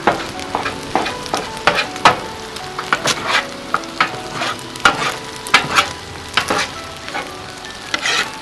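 Rice is stir-fried hibachi style on a Blackstone griddle, with a spatula shoveling and chopping in loud, irregular metallic clacks over a constant frying sizzle.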